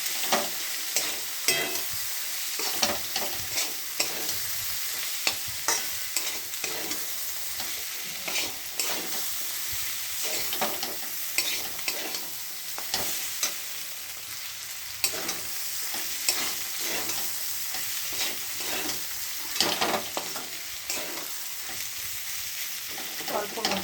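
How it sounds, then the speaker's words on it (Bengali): Cumin powder and chicken masala being sautéed in a hot pan: a steady sizzle runs throughout, broken by frequent scraping stirs at an uneven rhythm, close and fairly loud, with no talking. "জিরের গুঁড়ো আর চিকেন মশলা দিয়ে দিয়েছি এবার এটাকে ভালো করে কষে নেবো"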